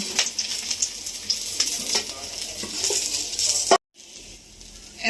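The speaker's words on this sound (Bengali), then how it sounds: "বাকি মাছগুলো ভেজে নেব" Tangra fish frying in hot oil in a pan, a dense steady sizzle with crackling pops and brief metallic clinks, cutting out for a moment near the end before resuming.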